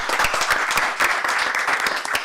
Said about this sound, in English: So clap it up for everybody